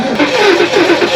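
A dirty, long-neglected Ford SVT Cobra engine runs loud and close, rising and falling in a quick rev with a rough, throaty drone over about a second.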